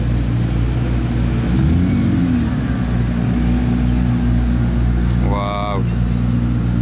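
A blue McLaren P1 supercar with orange stripes rumbles at low revs in the streets during the Monaco Grand Prix, a deep steady engine drone with a brief rise in pitch, under excited exclamations from a nearby man.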